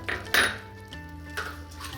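Spoon scraping and clinking against a pot while chole masala is stirred with boiled potato, several soft scrapes and one sharper clank, close and alone with no talk.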